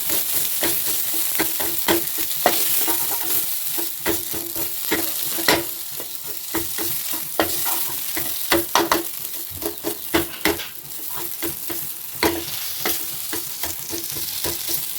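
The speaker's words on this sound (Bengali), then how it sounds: "এবারে তেলের মধ্যে নাড়াচাড়া করবো আলু সেদ্ধটাকে।" Boiled mashed potato with spices being stirred in oil over a low flame, a steady sizzle broken by repeated sharp scrapes and knocks of a spatula against the pan.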